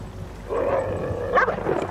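A dog inside a house gives short whimpering yips and a brief bark, fairly close and moderately loud over a low background rumble.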